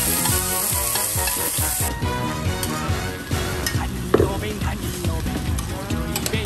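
A kimchi, pork and turnip cake mixture sizzles in a hot pan with stirring scrapes, a bright hiss strongest at first, then continuing under loud, rhythmic voices that cover most of the clip.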